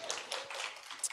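Audience clapping at a literary event with an author, dense and steady scattered hand claps filling the whole second alongside a cheer.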